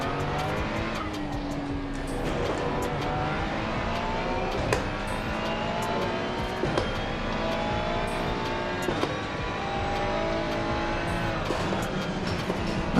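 Racing game race car with a loud, steady engine whine sweeping down and back up in pitch as it brakes and accelerates again, punctuated by short clicks and tire noise, close and continuous without speech.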